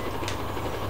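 A train in the Roblox Jailbreak game rolls past with a brief, steady rumbling clatter, moderately loud and continuous, with no talking over it.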